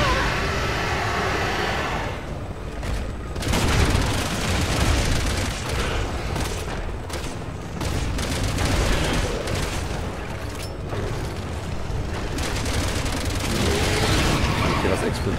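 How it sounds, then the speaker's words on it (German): Dense, continuous booming and crackling blasts from a Resident Evil 6 video game explosion fill the whole stretch, loud and sustained, with a German-speaking voice partly mixed in. "Okay, das explodiert."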